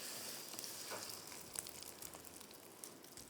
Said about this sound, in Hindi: ये अंडा आ गया और फुल तेज़ आंच पे इसको पकाना है।